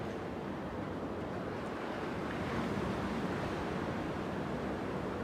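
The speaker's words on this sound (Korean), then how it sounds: "지금 이 바다는 대서양 바다인데 그냥 망망대해가 펼쳐지는 바다입니다." Atlantic Ocean surf at Ocean City, Maryland, a steady broad roar of breaking waves with wind buffeting the microphone, continuous and fairly loud with no voices.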